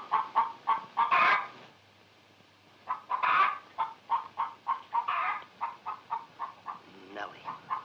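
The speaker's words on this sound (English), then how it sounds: "Lay, hen, lay." A hen clucks in short repeated bursts, close and clear, with a pause midway before the pulsing clucks resume in a steady run.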